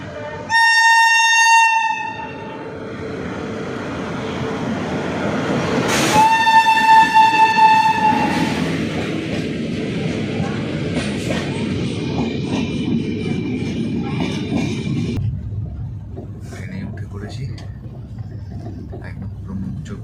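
Poorva Express pulls into platform 2 of a railway station: two loud horn blasts sound over a swelling rumble of rolling wagons, which keeps grinding along before easing to a quieter drone.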